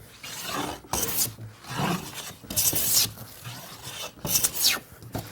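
A hand plane taking repeated strokes along a wooden board, each pass a rough, close shaving rasp, about five strokes in an uneven rhythm with short pauses between them and no talking.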